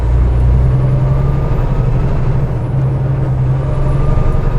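Kenworth T680 truck towing a trailer on a test drive, its diesel engine droning steadily and loudly up close as it runs through the upper gears, with a low hiss and rumble.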